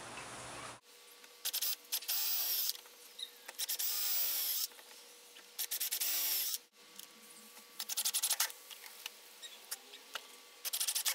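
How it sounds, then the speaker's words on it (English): A power drill drives screws into a wooden 2x2 rail for a homemade camera slide rail, with several separate whirring bursts that rise and fall, separated by short pauses and handling clatter. "I have everything all drilled in and nice and square."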